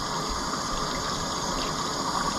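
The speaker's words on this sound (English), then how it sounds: "So I just run some warm water over my model." Warm tap water runs steadily over a sanded model horse in a sink, a continuous close gushing wash with no talk.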